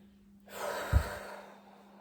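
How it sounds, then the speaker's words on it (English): A single deep breath, near and soft, with a slow airy inhale swelling and fading under a steady low hum, no speech. "Breathing. I'm focusing on my breath."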